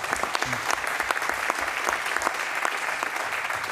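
Delegates applauding during an International Olympic Committee session, a steady dense clapping from a large room that carries on evenly for several seconds without speech.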